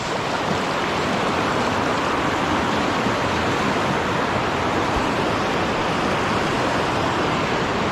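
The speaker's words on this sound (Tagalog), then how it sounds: "malakas ang agos. Hindi tayo makatawid guys." Strong current of a river too fast to wade across, a steady dense rushing roar of water that stays loud and unbroken throughout, with no voices over it.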